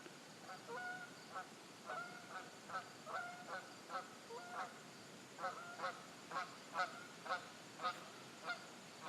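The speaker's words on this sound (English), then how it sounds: "the geese are going." Geese honk in a steady, rhythmic series of calls, faint and distant as if passing overhead, with no voices.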